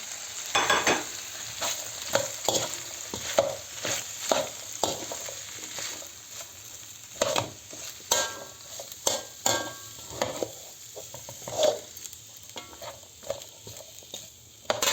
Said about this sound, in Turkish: Şimdi bu iyice biraz kızarsın.